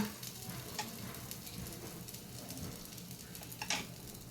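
Cashews and almonds roasting in a spoonful of melted ghee in a pan on a gas stove give off a steady, quiet sizzle with a few light clicks of stirring, heard close and alone.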